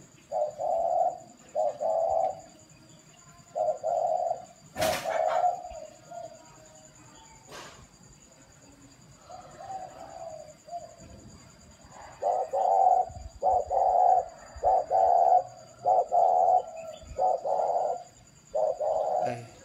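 Spotted doves coo repeatedly among caged birds at a rural estate in Bac Giang, Vietnam, giving rhythmic phrases of soft mid-pitched hoots in close, clear bursts over a faint steady insect drone, with a sharp knock partway through.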